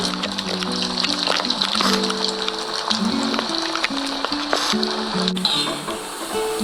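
Crispy potato nuggets fry gently in hot oil on a low flame, giving a constant near sizzle and fizz that thins out toward the end.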